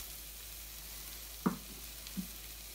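A patty melt, a grilled-cheese-style sandwich with a hamburger patty and sautéed onions, sizzles quietly in a pan with a steady low hiss, broken by a couple of soft clicks from the turner.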